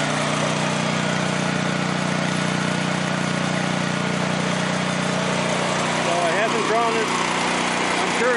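Small gasoline engine running on a homemade wood gasifier, droning steadily at close range with a loud constant hum, and a few faint higher whistles near the end.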